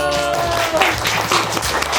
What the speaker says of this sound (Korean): 네, 박수 한번 주세요.